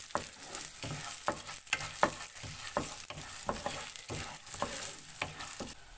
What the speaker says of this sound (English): Take a pan, add 1 tablespoon of oil, 2 tablespoons of chana dal,